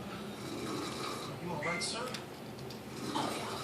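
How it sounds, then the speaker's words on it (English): A sleeping person snores loudly and steadily at close range, a rough continuous rasp with breathy swells, over a constant noisy background. "She is a champion snorer."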